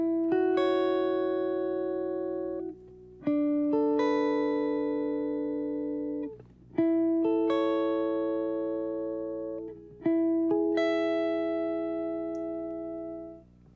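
Clean electric guitar playing a chorus melody slowly with no effects, four sustained ringing notes or chords, each held for about three seconds with a short pause between them.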